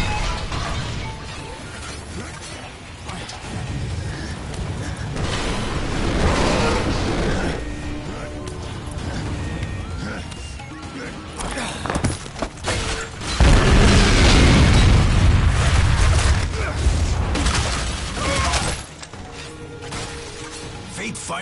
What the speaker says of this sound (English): I predict an imminent detonation within the gravity core generators.